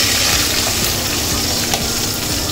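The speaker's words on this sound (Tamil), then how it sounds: "அது பொரிஞ்சிட்டே இருக்கும்போது இந்த கட் பண்ணி வச்சுருக்கிற வெங்காயத்தையும் சேர்த்துக்கணும்." Chopped large onions fry in hot oil for a boiled egg gravy, producing a loud, continuous close-up sizzle and hiss throughout, with no one speaking.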